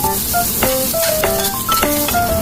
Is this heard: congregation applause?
no